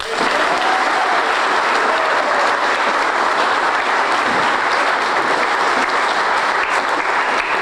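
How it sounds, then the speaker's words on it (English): Sustained, loud applause from a crowd at an annual sandlot baseball reunion, steady dense clapping on a count of three that holds evenly throughout with little talk. "On the count of three, I want you to all applaud."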